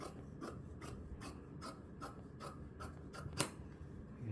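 Scissors cut fabric while trimming a draping pattern, giving a steady series of crisp snips about every half second, close and fairly quiet, with no talk.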